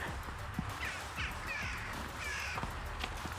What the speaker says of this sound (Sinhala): අර ඇත පේන කුරුල්ලෝ කිලෙනවා